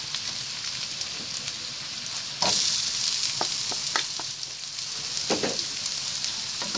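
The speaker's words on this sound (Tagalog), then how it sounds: "Then, add naman po natin yung ating sibuyas." Onions sizzle loudly in a hot pan for beef kaldereta, a steady dense crackle with occasional sharper pops and stirring clatters, close and constant throughout.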